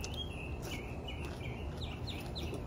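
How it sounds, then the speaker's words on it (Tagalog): Bird singing outdoors behind people at a meal: repeated faint high chirps and short tweets over a constant background hiss, distant and soft with no speech. "Makantang ibon sa likuran namin."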